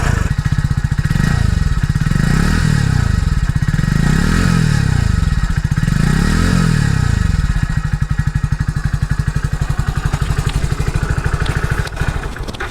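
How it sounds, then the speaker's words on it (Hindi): Hero Splendor Xtec 2.0 commuter motorcycle starting and idling, with several rising and falling revs early on settling into a steady, close, putting exhaust note, with no talk. "यहाँ से इसको स्टार्ट करते हैं और सुनाते हैं आपको इसका एग्जॉस्ट नोट।"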